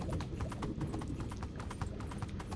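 Horse hooves clop in the Minecraft video game in a quick, steady rhythm of close, sharp hoofbeats that continues without pause.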